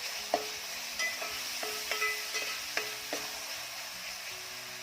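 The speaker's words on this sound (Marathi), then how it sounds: "डाळ आधी तेलामध्ये चांगली परतून घ्यायची आहे" Soaked moong dal fries in oil for a quick fenugreek-leaf vegetable dish, a soft steady sizzle broken by several sharp spatula taps and scrapes against the pan at irregular intervals, close but fairly quiet, with no talking.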